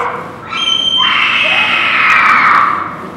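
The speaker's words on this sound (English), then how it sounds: "Those are the Shrieking Eels." Shrieking eels in The Princess Bride boat scene, heard as a loud, sustained high-pitched screech that rises, holds for a couple of seconds and fades, with no talk over it.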